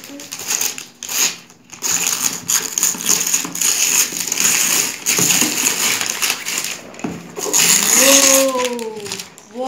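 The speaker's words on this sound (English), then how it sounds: "So I'm going to cut open this box." A blade cuts open a cardboard mystery box with loud, close scraping and tearing and some rustling, ending in a higher-pitched squeal.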